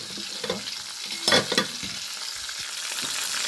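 Fish shallow-frying in oil in a pan, with a steady close sizzle and crackle throughout, a brief louder burst of spattering near the middle, and no voices.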